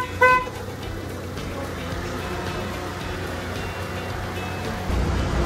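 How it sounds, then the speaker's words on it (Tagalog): A 2001 Mitsubishi Lancer MX sounds one short, close horn blast right at the start, a bright tonal beep, followed by a steady low background hum with no further honks. "Busina tol, busina."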